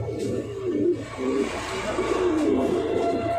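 Jacobin pigeons coo in soft, rolling, repeated murmurs close by, continuing through the whole stretch with little pause.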